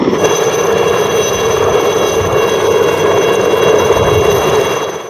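A light helicopter runs loud and continuous, a dense turbine whine and rotor roar filling the whole stretch with no voices, easing off slightly at the end.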